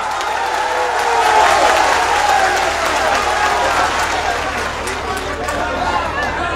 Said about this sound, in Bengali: সন্টুর জন্য হাততালি হয়ে যাক